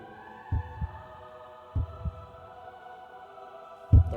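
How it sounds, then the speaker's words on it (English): Heartbeat sound effect: three soft double thumps at a slow, steady pace over a constant low droning hum, with no voices. "the sound of a heartbeat"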